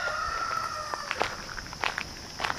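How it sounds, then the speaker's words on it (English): A rooster crows somewhere in the distance, faint against a quiet outdoor background with a few soft clucks and rustles. "There's a rooster."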